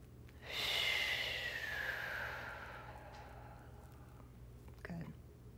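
A long, steady breath during yoga practice, a smooth drawn-out exhale that rises quickly and slowly fades over several seconds, close and soft, with a faint short sound near the end.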